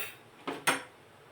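A spoon stirs jowar flour paste into water in a pot, giving two quick, close clinks of metal against the pot over a faint background.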